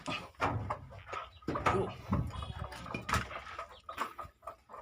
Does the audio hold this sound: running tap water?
no